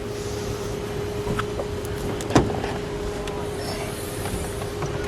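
Opening the trunk of a gray 2010 Dodge Viper SRT 10 Final Edition brings a single short mechanical latch click near the middle, over a steady low background hum.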